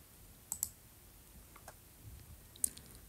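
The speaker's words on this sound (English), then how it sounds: "we'll simply double click it" Two quick double-clicks of a computer mouse open an installer file on a Windows 11 PC. The sharp clicks sound close, with a short pause between the pairs and near silence all around.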